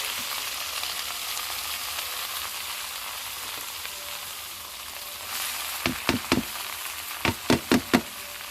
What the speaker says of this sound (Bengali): এই যে শুকনো মরিচ আমি কয়টা ভেজে নেব